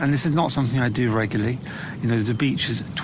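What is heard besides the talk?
No everyday noises stand out.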